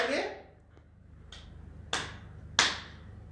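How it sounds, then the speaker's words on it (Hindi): Bare hands clap three times overhead during a gentle lymphedema arm exercise for breast cancer patients, each clap a sharp, fairly close smack, evenly spaced over a faint steady background hum. "जिसमें हम ये लेकर के जाएंगे और ऊपर 3 बारी तालियां बजाएंगे"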